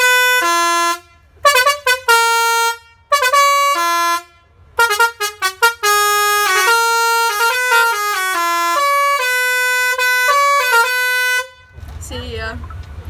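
Air horns on a Claas tractor in a charity tractor run sound a series of loud, close musical blasts, first short choppy toots and then long sustained chords, before giving way to engine rumble and road noise.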